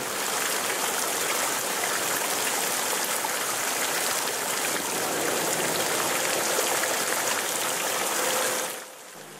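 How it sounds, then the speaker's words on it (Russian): Steady rushing splash of water from the Fischbrunnen, the 1343 fish fountain in Munich, loud and continuous with no voices, fading slightly in the last moment. "Фонтан Фишбрюнер или рыбный фонтан, самый старый фонтан Мюнхена 1343 года."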